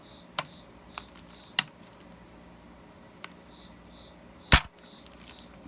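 An India-made Charleville flintlock musket lock snaps several times, giving sharp, isolated clicks and one loud crack, spaced irregularly against a quiet background.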